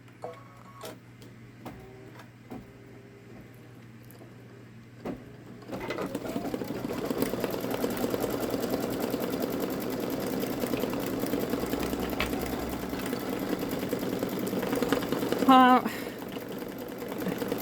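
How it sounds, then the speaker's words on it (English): A Babylock Solaris Vision embroidery machine satin-stitches a flower design onto metallic vinyl, starting after a few quiet clicks and settling into a steady, fast mechanical whir that runs on without a break. "So now I am ready to just press go to let that machine do the satin stitch over the flower."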